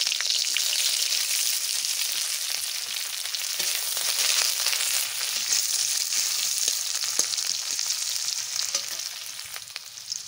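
Cumin seeds, four dried red chillies and onion frying in hot oil, a steady bright sizzle with crackles and occasional stirring clicks, close and continuous throughout.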